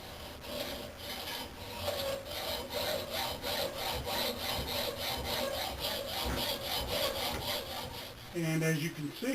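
Wood held in a small swivel vise is cut with a handsaw in steady, rhythmic back-and-forth strokes, close and clear, with a brief clunk of the workpiece being moved near the end.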